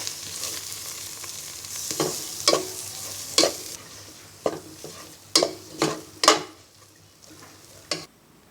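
Dried red chillies frying in oil while being stirred, a soft sizzle under a run of sharp scraping spatula strokes against the pan, irregular and close, with no voices.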